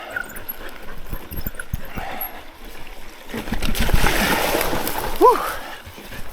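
A dog splashes through a shallow creek on a mountain trail in Utah's Pahvant Mountains, with broadband water splashing building to a loud burst near the end, plus a brief whimper and a person speaking.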